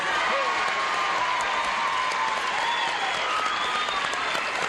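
A studio audience of a game show applauds and cheers steadily as guests are introduced, with dense, continuous clapping throughout and a few whoops rising above it.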